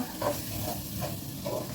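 A spoon scrapes and stirs through a sizzling sour cream sauce with chicken drumsticks in a pan in a few slow sweeps, with steady frying hiss underneath.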